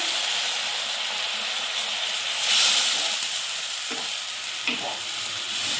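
A little water poured into sizzling masala in a pan, giving a steady close sizzle with a hissing steam surge partway through and a couple of soft stirring knocks near the end.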